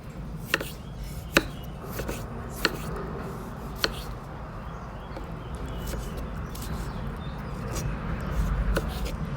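A knife slices eggplant on a cutting board, a handful of sharp, irregular taps against a steady background rustle and hum.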